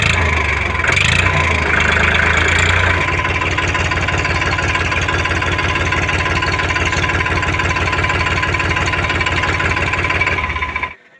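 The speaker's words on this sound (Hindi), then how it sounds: "अभी हम ट्रैक्टर को एक बार स्टार्ट करके भी दिखाएंगे" A Powertrac Euro 45 Plus tractor engine idles loudly at close range with a steady, knocking diesel rhythm, then cuts off abruptly near the end.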